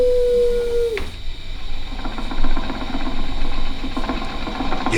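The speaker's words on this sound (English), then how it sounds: "My daughter Patty is using that old exercise machine she rescued from the attic." An old 1920s exercise machine runs in Disney's Carousel of Progress attraction. A brief sustained tone cuts off, followed by a steady, rapid mechanical whirring and clattering at moderate volume.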